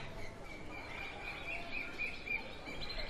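Flocks of birds chirp and tweet at sunset, thin high calls repeating faintly at a distance over a soft, steady background hush.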